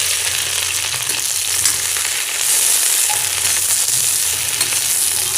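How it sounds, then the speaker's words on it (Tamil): Sliced okra sizzles and crackles steadily in hot oil in a pan, close and continuous. "இப்போ நாம் நறுக்கி வச்ச வெண்டைக்காவை இதில் சேர்த்துடலாம்."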